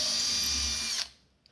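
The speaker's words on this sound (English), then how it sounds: "you start the drill until it bites into the material, and then you can angle it" A handheld power drill whirs steadily at full speed as it bites into a wall, its loud motor whine running for about a second before cutting off and spinning down, with a faint click afterward.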